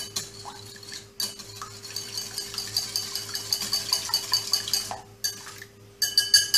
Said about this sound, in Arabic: نخفق قليلا